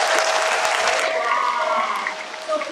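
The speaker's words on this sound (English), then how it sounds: "But one last round of applause." A crowd claps at an outdoor school May Day celebration in Kohala, a brisk round of applause that fades over a few seconds, with a faint tone and some background activity underneath.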